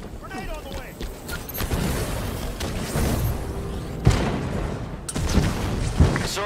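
Grenade blasts and combat noise in Halo 5: Guardians capture-the-flag, with several sharp booms and bursts over a busy battle bed and voices talking throughout.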